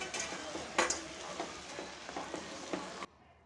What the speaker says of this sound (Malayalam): ഇതിലേക്ക് ഇനി നമ്മൾ പൊടിച്ചു വച്ചിരിക്കുന്ന ജാതിക്കയുടെ ഇട്ട് കൊടുക്കാം. നല്ലതുപോലെ ഇളക്കി കൊടുക്കാം.